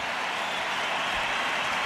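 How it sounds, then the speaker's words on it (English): Steady broad applause from a rugby crowd at an Ireland versus England Six Nations match, honouring Johnny Sexton, a continuous wash of clapping with no distinct breaks. "a huge round of applause for Johnny Sexton"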